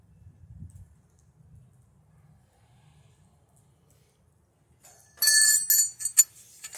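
Unicorn bell rung during a home ritual, a bright metallic jingling that enters suddenly after a long near-silence with faint low rumbling, shimmering in quick repeated strikes for about two seconds.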